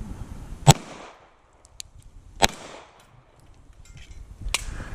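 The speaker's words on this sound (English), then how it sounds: "I can't tell if I'm shooting under it or shooting through it." Target shooting on a range, with three sharp gunshots at wide, uneven intervals, each loud and close, with a brief decaying tail and quiet outdoor background between them.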